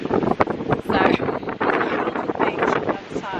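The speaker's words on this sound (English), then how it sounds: "You guys probably can't hear me because of the wind" Strong, gusty wind batters the microphone on a choppy beach on the Mornington Peninsula, a loud continuous roar with sharp buffeting bursts and a voice partly buried beneath it.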